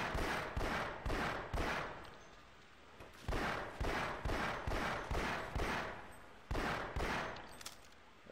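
Repeated gunfire in Half-Life: Source, bursts of sharp shots in quick clusters with short pauses between, loud and close throughout.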